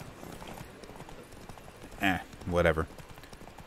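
Horse hooves clip-clop steadily through The Witcher 3, a soft rhythmic trot running across the whole stretch, with a brief spoken word breaking in near the end.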